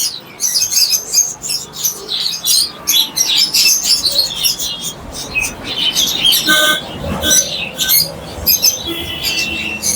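Lovebirds in cages at a busy bird market, chirping and squawking constantly in a dense, loud, overlapping chorus of sharp calls.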